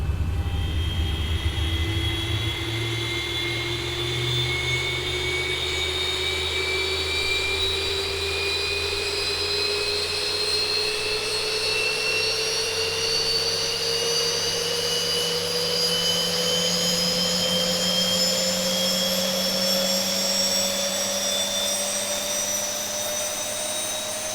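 Engine number 2 of a Boeing 737 spools up during start in the X-Plane 11 flight simulator, a steady whine that climbs slowly in pitch over a constant roar, with no voices.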